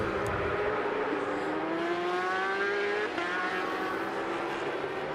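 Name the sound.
racing motorcycle passing by during Stock 1000 race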